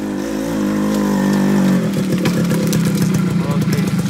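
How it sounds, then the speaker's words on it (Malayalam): A motorbike arriving on a hill road between Vattavada and Munnar, its engine droning steadily then breaking into a rougher, pulsing revving as it draws near, loud and continuous throughout. "അതേ വേഗം ബൈക്ക് എടുത്ത് വരികയാണ്"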